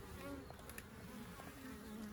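Honeybees crawling on a beehive frame make a steady, dense buzz close up, with a few louder wingbeat swells rising out of the hum and no talking.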